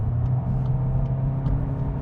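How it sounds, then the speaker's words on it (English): A 2026 Volkswagen GTI with a DSG gearbox pulls hard under acceleration, its exhaust a steady close low drone and whir with faint ticks that could be quick gear shifts. "that DSG starts snapping off those gears, you get a nice little pop between gears"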